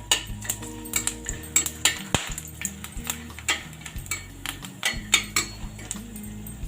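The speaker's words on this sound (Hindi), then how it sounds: "ये जावित्री, ये चक्रफूल, और ये इलायची, काली मिर्च और लौंग, इन सबको गैस को स्लो करके अच्छे से भून लीजिए।" Whole spices (mace, star anise, cardamom, black pepper and cloves) being dry roasted and stirred in a pan over low gas, with a steady run of metallic spoon clinks and scrapes against the pan, close and clear.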